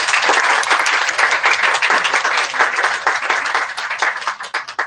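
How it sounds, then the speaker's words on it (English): Applause from an audience at a talk on pollution, data and activism around the Formosa Plastics archive: dense, steady clapping that stays loud and close throughout, with no voices over it. "I want to give a very big round of applause for you"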